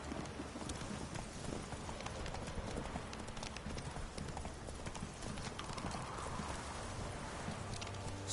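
Horse hooves clip-clop steadily at a walk in The Witcher 3, a continuous rhythmic patter over ambient outdoor game sound, with faint background noise throughout.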